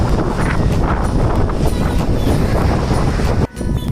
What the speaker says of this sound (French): Parce que même en descente, le vent il me freine de trop